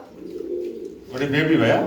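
Soft cooing of King pigeons and their squabs over a low rumble, growing fuller and louder partway through as more birds join in close by.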